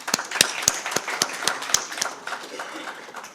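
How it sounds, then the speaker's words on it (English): A sparse audience applauds Dr. Krishnan at a formal event, with distinct, separate claps at an uneven rhythm over a soft background of scattered clapping. "Another round of applause for Dr."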